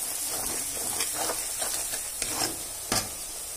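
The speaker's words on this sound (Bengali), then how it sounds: "লঙ্কা হলুদ সব ভালো হয়ে ভাজা হয়ে গেছে।" Chili powder and turmeric fry in hot oil in a pan, giving a steady close sizzle broken by a few sharp stirring scrapes near the end.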